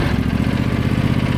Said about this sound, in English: Just jump on, start it up.